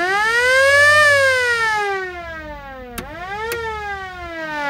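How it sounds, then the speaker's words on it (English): A loud mechanical cattle siren on a 1997 Ford F-350 7.3 Powerstroke truck wails, rising then slowly falling in pitch, followed by two quick clicks and another rising wail. "And got a little cattle siren on here."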